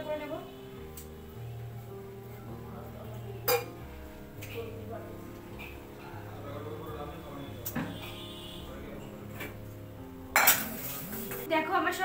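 Dishes, pots and cutlery being washed: clinks, clatters and scraping of utensils with running water in a kitchen, near and fairly loud, with someone speaking intermittently over it.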